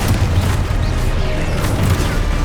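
Confringo fire spell blast in the Hogwarts Legacy video game: a loud, continuous rumbling boom with crackling bursts, dense low-end impact filling the whole moment.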